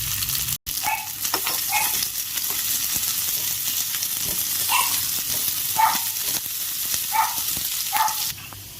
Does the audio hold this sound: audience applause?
no